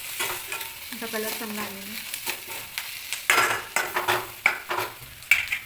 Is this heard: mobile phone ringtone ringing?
no